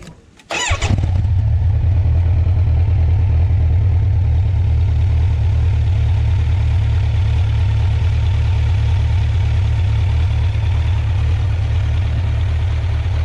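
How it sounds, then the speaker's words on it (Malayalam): A Kawasaki Z900 motorcycle fires up with a short cranking burst, then settles into a loud, steady, deep exhaust idle that rumbles evenly and close by for the rest of the stretch. "വണ്ടി എക്സോസ്റ്റ് പൈപ്പിന് സൗണ്ട് ഒന്ന് കേട്ട് നോക്കാം."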